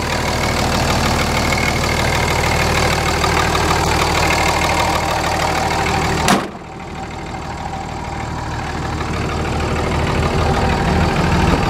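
Steady, loud diesel idle from a grey Ram 2500 pickup with a Cummins-like engine and straight-through Banks exhaust, broken midway by a single sharp knock before the rumble continues, with no talking.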